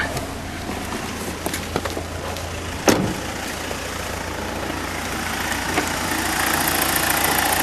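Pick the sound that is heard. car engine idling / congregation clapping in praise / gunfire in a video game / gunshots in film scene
car engine idling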